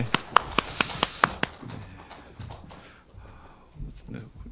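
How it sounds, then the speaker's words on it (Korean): A church congregation claps in praise. Several crisp, evenly spaced claps ring out near at the start, then fade into scattered softer sounds and murmuring voices. "하나님께 영광의 박수 올려드리겠습니다."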